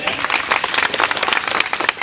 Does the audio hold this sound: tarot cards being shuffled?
no